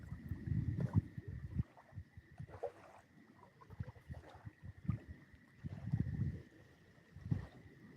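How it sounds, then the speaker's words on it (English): Soft, rhythmic splashes and water swishes from paddling a boat at night under a full moon, with low rumbling wind buffeting the microphone and a faint steady tone in the background. "I'm just paddling a boat"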